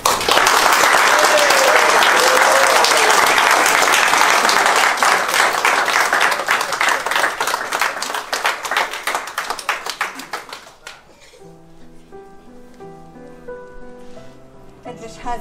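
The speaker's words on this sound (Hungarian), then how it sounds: "Nyugodtan tapsoljanak." Wedding ceremony audience breaks into sustained applause right after the newlyweds' kiss, dense clapping that fills the room for about ten seconds, then thins out and fades as soft piano music rises underneath.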